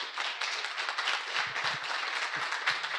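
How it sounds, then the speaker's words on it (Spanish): Applause from a network operators' conference audience, a fairly close, crisp clatter of many hands clapping continuously, with a few individual claps standing out. "otro aplauso,"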